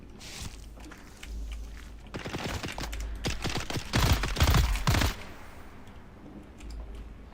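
Gunfire in the Dune: Awakening video game, a run of sharp shots clustered in the middle into a dense volley, with softer footstep-like clatter before and after.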